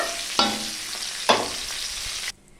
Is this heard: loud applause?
no